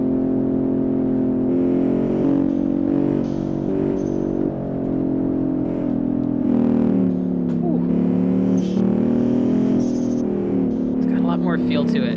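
A car engine in the driving game Automation rolls downhill, a steady droning tone with shifting pitch that runs throughout beneath continuous talking.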